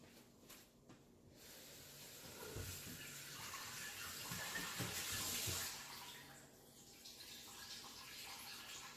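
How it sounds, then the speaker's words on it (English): Tap water runs in a steady, moderate hiss as lettuce is rinsed under it, with the flow shifting slightly in tone and no talking. "let me rinse off my lettuce."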